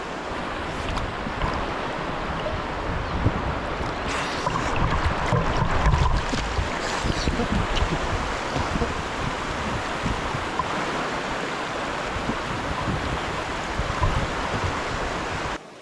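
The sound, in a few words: water waves at Devgad Konkan village shore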